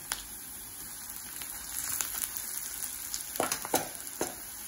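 Elephant foot yam sautéing with onions in a pan, a steady close sizzle of frying with a few louder stirring scrapes near the end.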